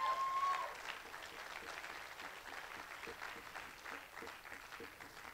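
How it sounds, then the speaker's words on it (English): An audience at a student-led gathering claps in agreement, a dense burst of applause that starts loud and tapers gradually while continuing throughout. "Come on, clap if you agree with that."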